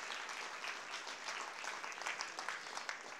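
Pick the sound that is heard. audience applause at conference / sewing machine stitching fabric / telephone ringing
audience applause at conference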